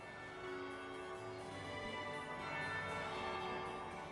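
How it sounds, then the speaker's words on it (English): Bell tolling in Dragon Age: Inquisition, a faint, sustained ringing tone washing over soft ambient game music, distant and steady without speech. "That would be the second bell."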